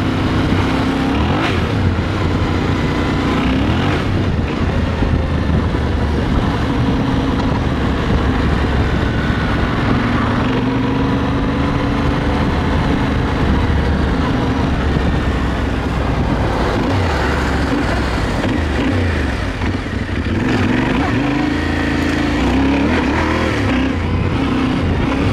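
A Yamaha Tenere enduro motorcycle engine drones steadily and fairly loud, its pitch rising and falling as it accelerates and shifts, with wind noise throughout.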